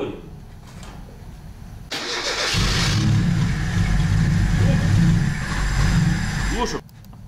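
A VAZ 2107 car engine cranking briefly, then catching and running at a steady idle close by for several seconds before cutting off.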